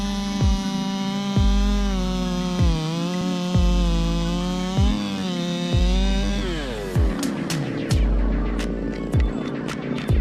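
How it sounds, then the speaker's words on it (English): Chainsaw machine cutting trees from above, a steady loud engine drone with a strong harmonic whine that rises and dips, punctuated by regular low thumps about every second, changing character near the end. "this technique of sawing trees from above"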